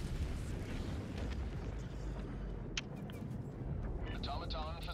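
Bomb blast destroying an automaton facility in a video game: a dense, sustained rumbling roar with sharp crackles, heard under a voice talking near the end.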